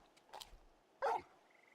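Torgal, the dog in Final Fantasy XVI, gives a short yelping bark in the game: a couple of brief, fairly close calls with a moment of quiet between them.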